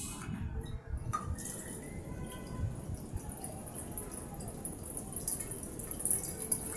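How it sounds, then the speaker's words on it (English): Water pours steadily into a glassware flask during a redox titration, a continuous close splashing and trickling wash with faint glassy clinks, and no voices. "Let me add some water first."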